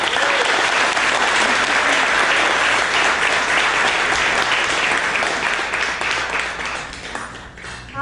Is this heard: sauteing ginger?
no